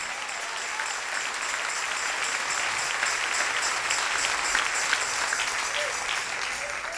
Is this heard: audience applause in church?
yes